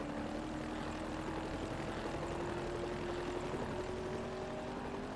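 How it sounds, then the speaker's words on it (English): A helicopter flying in the Forza Horizon racing game, heard as a steady, fairly faint rotor and engine drone with a constant hum that holds evenly throughout, with no talking. "that helicopter definitely could have beat us"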